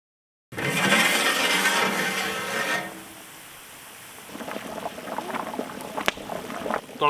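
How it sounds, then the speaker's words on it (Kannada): Water for dum biryani, poured over half-cooked chicken in a pot, churns loudly at first and then settles into a quieter bubbling simmer with scattered pops and clinks. "ಚೆನ್ನಾಗಿ ಕುದಿಲಿ ನೀರು"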